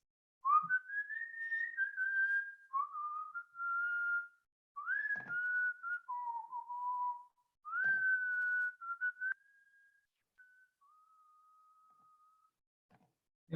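A lone person whistles a slow, traditional Jewish melody in clear sustained phrases with brief pauses, close and alone, ending in a long held note.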